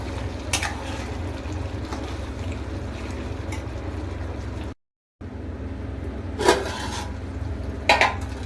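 Chilli chicken stirred in a pot, with soft spoon scrapes and clinks over a steady low cooking hum, plus a few brighter knocks near the end.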